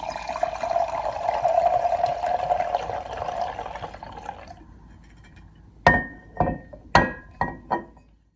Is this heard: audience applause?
no